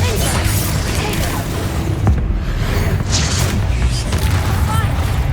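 Confringo and Bombarda spell blasts in Hogwarts Legacy: a dense, loud roar of battle noise with several sharp explosive bursts popping out at irregular intervals, voices faintly mixed in.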